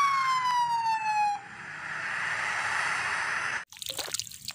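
A toy police patrol car plays its siren, a steady looping electronic wail heard close and alone, cut off abruptly near the end by a brief rustle.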